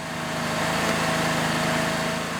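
A drilling machine bores through tough rock and rubble, a loud, continuous mechanical grinding drone with a steady low throb and no speech.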